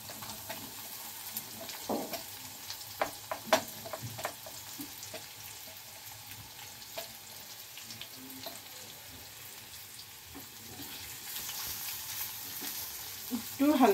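Chopped garlic and onion sizzle in a pan for egg tadka, a steady close frying hiss broken by intermittent clicks and scrapes of stirring, with the sizzle swelling slightly toward the end.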